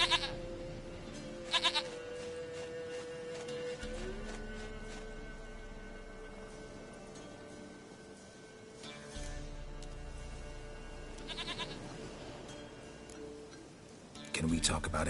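A goat bleats in The Witcher 3, several wavering cries in separate bursts spread through the scene, set against a steady ambient drone and sitting mid-distance, fairly clear.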